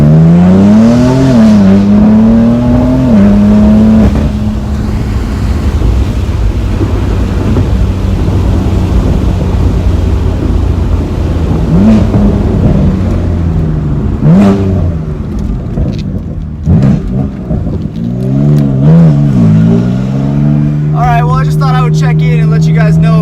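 A stage 2 BMW M3 F80 with fresh spark plugs accelerating hard, engine note rising through the revs with gear changes and a loud throaty pull, heard from inside the car with a person talking over it.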